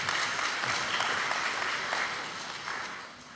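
A crowd at a community gathering gives a round of applause, continuous dense clapping filling the room and tapering slightly toward the end, with no talk over it.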